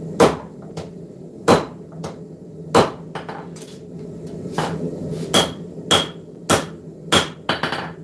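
A hammer strikes hot metal on an anvil while the back section hangs off the anvil's edge for forging, giving about a dozen sharp, ringing blows at an irregular pace, close and loud, with a low hum underneath and no talking.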